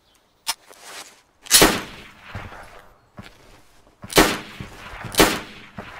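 Gunshots in the DayZ video game, four or five loud sharp cracks spaced irregularly, each trailing into a rolling echo, with quiet pauses between.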